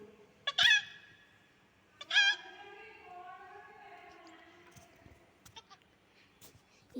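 A chicken in the Granny video game gives two short, loud clucking calls about a second and a half apart. Quieter scattered game noises follow.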